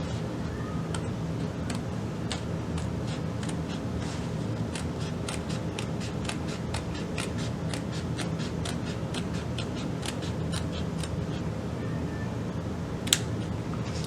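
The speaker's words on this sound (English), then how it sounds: "you can take your scissors and just cut along that center line that you made and stop at the point of the other triangle" Scissors snipping through fabric along a centre line while a zipper pocket is added to a lining, a quick, fairly even run of light close clicks over a soft constant background hiss.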